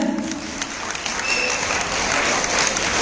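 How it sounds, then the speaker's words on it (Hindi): Seminar audience applause greeting a speaker, a continuous wash of many hands clapping at moderate loudness, steady from start to finish with no talking over it. "एक बार जोरदार ताली हो जाए।"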